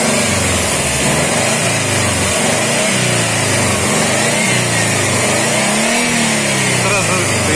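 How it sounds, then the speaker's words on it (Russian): A car engine revs gently and continuously, loud and close, while its fuel injectors are flushed with LAVR ML 101 cleaner without a test bench; the engine note rises and falls slightly over a dense, steady drone. "Я тут газую потихонечку."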